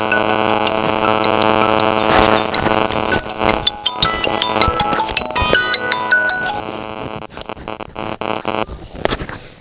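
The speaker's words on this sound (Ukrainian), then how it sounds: "мені телефон помішав вести зйомку" A mobile phone rings loudly and steadily for nearly ten seconds during outdoor filming in a forest, its melodic electronic ringtone repeating until it cuts off near the end.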